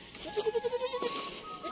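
A goat bleats at sunset in the Uttarakhand hills as the animals return home, a rapid wavering series of about eight pulses, moderately close and alone over a faint outdoor background.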